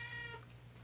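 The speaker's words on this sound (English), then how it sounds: "please ignore that, that's my cat" A house cat meows once, a short tonal cry close to the microphone, heard over a steady low electrical hum with no talk.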